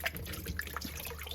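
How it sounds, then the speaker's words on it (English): Water splashes and trickles in short, soft bursts as old reused plant pots are rinsed in a vinegar and water solution, close and fairly quiet. "all I do is rinse them in a solution of vinegar and water"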